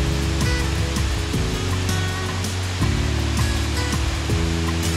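The waterfall and spring at Los Chorros in Rayón, San Luis Potosí, give a loud, steady rush of falling water that stays close and constant, with no voices.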